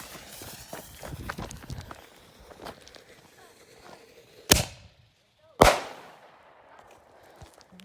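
Two sharp fireworks bangs go off about a second apart outside a ranch garage, each followed by a fizzing tail, after a stretch of footsteps, shuffling and scattered voices.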